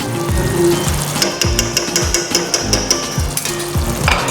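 Coriander and mint go into a chickpea curry, chane ka madra, frying loudly in a pan; a constant sizzle is punctuated by repeated scraping stir strokes and clinks of the spoon against the pan.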